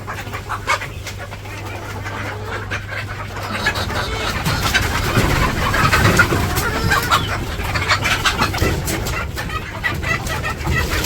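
Hens on a village poultry farm cluck repeatedly just after laying eggs, a busy, fairly close chorus of clucks and squawks that runs throughout, with faint voices in the background.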